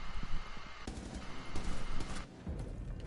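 Gunfire in Rainbow Six, several sharp shots hitting enemies in quick bursts, crackling close and loud against quieter game background.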